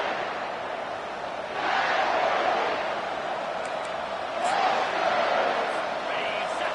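Stadium crowd in the NCAA 25 college football game, a steady distant roar that swells twice, under a calm voice-over of play-by-play commentary.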